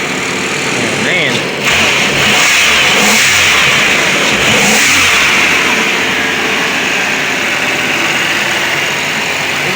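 A 2000 Pontiac Grand Am with a swapped-in 3.4 V6 revs loudly and steadily up close, the engine note rising and holding throughout, with voices talking over it.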